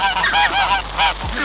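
Farm ducks calling loudly and close, a quick series of four or five harsh, honking quacks in a row with no voices.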